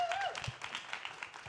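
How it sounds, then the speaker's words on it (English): Applause from an esports crowd at an LCS Proving Grounds League of Legends match, a brief burst of clapping at moderate level with some voices mixed in. "Let's give a round of applause, first off, for Team Liquid Academy and the 2 heroes of the series."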